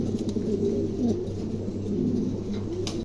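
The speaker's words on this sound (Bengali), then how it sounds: "দর্শক এখানে একজোড়া জার্মান কুপার আছে দেখেন চমৎকার একজোড়া জার্মান কুপার আছে" A pair of German pigeons coo in soft, repeated low throaty calls, close by and continuous, with a little rustling and no talk.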